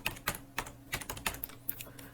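Someone types on a computer keyboard while installing a Python module, and the keystrokes come as a steady, close run of crisp clicks with brief pauses.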